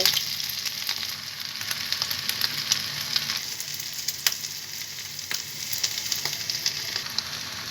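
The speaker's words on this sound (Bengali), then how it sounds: "এক এক করে আমি কাবাবগুলোকে এইভাবে ভেজে নিব।" Chicken kebabs fry in a pan, making a steady close sizzle with scattered sharp pops and crackles, moderately loud and without voices.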